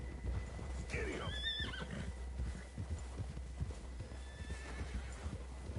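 Horse hooves clip-clop steadily through the clip beneath a loud whinny near the start, as riders head toward a lake in a western setting; a continuous outdoor rumble sits under everything.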